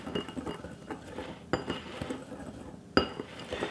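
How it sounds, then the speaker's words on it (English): A utensil whisks paprika, lemon pepper seasoning, thyme and garlic powder together in a bowl, giving soft scraping with sharp clinks against the bowl at regular intervals, close and alone. "And I'm going to whisk this all together."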